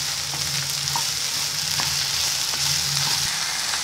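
Cut okra fries in hot oil in a pan, making a loud, continuous sizzle with light crackles and occasional soft stirring scrapes, heard up close.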